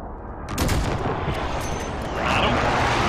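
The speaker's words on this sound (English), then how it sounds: "Got an allied precision airstrike incoming." Precision airstrike explosions in Call of Duty Warzone, a loud continuous roaring blast rumble that swells and stays heavy, with faint voices underneath.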